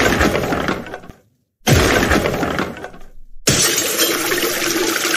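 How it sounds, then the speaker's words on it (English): Glass fish tanks at a pet store shatter in loud, close crashes, three long bursts of breaking glass and tumbling shards separated by a short silence, with water splashing in the mix. "I'm going to smash the fish tanks in Petsmart."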